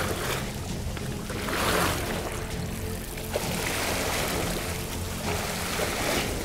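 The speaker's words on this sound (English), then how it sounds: "And now the waves and the rain." Water waves and rain splash steadily around a floating ark built from LEGO bricks, a continuous broadband wash with a few swells and no voices.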